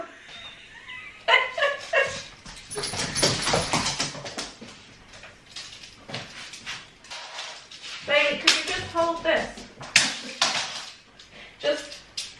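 A pet dog barks in bursts around household sounds, with dishes and cutlery clattering nearby and a person's voice at times, the barking moderately loud and irregular.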